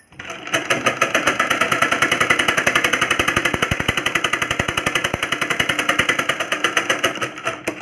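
A sewing machine stitches a blouse, running steadily after a brief start with a fast, even mechanical rattle, loud and close, with no talking.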